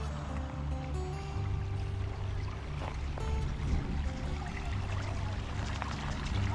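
Waterfall splashing into a small lily pond at a birding spot in the Lower Rio Grande Valley, Texas: a steady, close rushing pour of falling water that runs unbroken throughout, with faint bird sounds above it.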